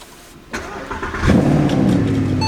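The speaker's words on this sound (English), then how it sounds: "So this is an SLS cold start." A Mercedes SLS cold start: a starter click and brief crank, then the engine catches with a loud roar that settles into a high, steady, rumbling idle close by, with no voices.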